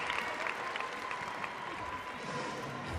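Spectators at a college gymnastics regional meet applaud in a broad, steady patter of many hands, moderately distant, with a few sharper claps standing out early on.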